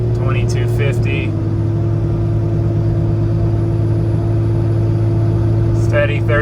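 A Cummins-swapped Ford truck towing a trailer drones at steady 30% throttle around 2250 RPM, a constant low engine hum with strong tonal rumble, and a voice speaks briefly near the start and end.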